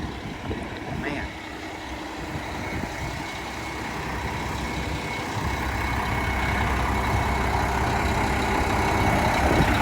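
A big dump truck idles nearby on a farm during a concrete pour, its low diesel rumble steady and gradually growing louder.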